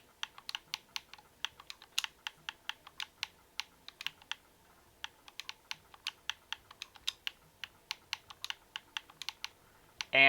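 Fingers tap quick, crisp keystrokes on a keyboard in uneven bursts, each click close and distinct against a quiet room.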